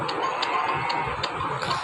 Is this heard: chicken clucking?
yes